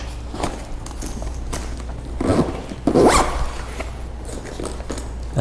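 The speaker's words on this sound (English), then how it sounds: "zip it back up" A backpack zipper being drawn closed while repacking an AlphaOneNiner Whitley pack, with rasping zip strokes near the mic over a low steady hum, the strongest pulls coming in the middle.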